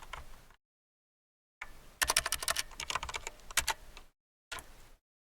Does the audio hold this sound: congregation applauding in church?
no